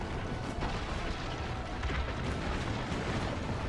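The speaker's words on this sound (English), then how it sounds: "Ezio needs to man the cannon and fire at siege towers to protect the villa" Cannon fire against siege towers during a battle defending a villa in the Assassin's Creed Brotherhood video game. Dense, continuous booming and rumbling runs loud throughout, with no distinct pauses and no talking.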